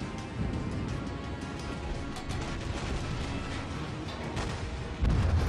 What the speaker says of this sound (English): It causes audio to stutter for some stuff.